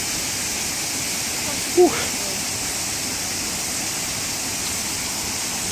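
At Buried Village a waterfall pours continuously as a broad, steady roaring hiss, with one brief breathy exclamation from a person partway through.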